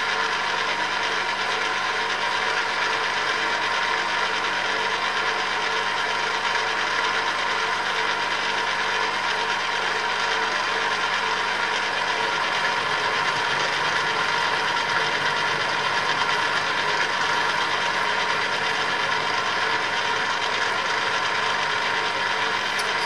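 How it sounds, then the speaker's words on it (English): A small milling machine cuts a water pump pulley, a steady mechanical whir and grinding chatter running continuously and fairly loud, with a slight change in tone partway through as the cut proceeds. "It's only a little milling machine"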